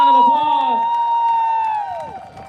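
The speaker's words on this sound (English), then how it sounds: "Let's give a round of applause" A crowd at a Labor Day protest rally in Columbia, South Carolina cheers and whoops loudly for a couple of seconds, with shouted voices rising over the noise before it fades slightly.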